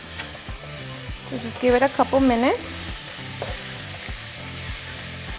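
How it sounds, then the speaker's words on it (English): Chicken frying and sizzling in a pan with poblano chile and corn, for green poblano chicken and rice, with a steady close sizzle and stirring throughout while a person talks briefly over it. "And now we're just going to fry it for about 4 minutes."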